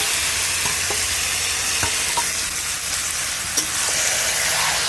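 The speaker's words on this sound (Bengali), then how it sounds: "এবার এতে আমি দিয়ে দেব চিকেনটা, দিয়ে দিচ্ছি ম্যারিনেট করে রাখা চিকেনটা।" Marinated chicken hits softened onions in a hot pan for a yogurt chicken curry, giving a steady close sizzle with a few sharp utensil clicks as it is stirred.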